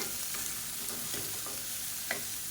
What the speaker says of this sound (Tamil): இப்போ சுரக்காய் வேகிற அளவுக்கு நல்லா வதக்கணும்